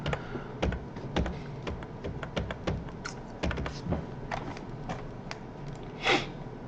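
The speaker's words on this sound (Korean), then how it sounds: "이렇게 말하면서 키보드 치니까 또 조금 생소하네요" Someone types on a computer keyboard in a quick, uneven run of close, crisp key clicks and thumps, with no talking.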